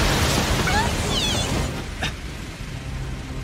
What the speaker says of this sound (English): I'll use a wall of fire instead.